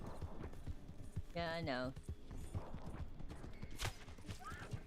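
In the Red Dead game, a horse's hooves clip-clop steadily, and a short whinny or tonal cry cuts in. Someone talks briefly over the hoofbeats.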